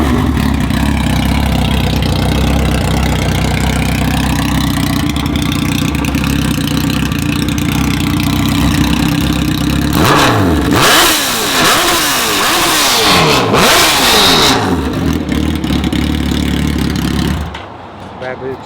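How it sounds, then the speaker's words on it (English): Motorcycle with a straight-pipe exhaust and no muffler, idling loud and close with a deep steady rumble, then blipping in several sharp revs before cutting off; speech is faint or absent. "I bet you that thing is loud because the exhaust is like right there. It doesn't even have a muffler. It's just straight pipe."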